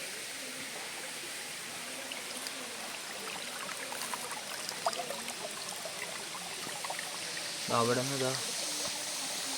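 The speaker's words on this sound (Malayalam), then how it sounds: "പാറക്കെട്ടിൻ്റെ ഇടയിൽ വെള്ളം ഒഴുകി പോകുന്നതാണ്" Water at Palaruvi waterfall runs between rocks in a steady, broad rushing wash close by, with faint voices in the background and a short spoken phrase near the end.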